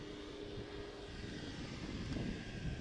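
A lawnmower runs on an adjacent field beside a university men's game, a steady, distant engine drone that holds evenly throughout with no talk over it.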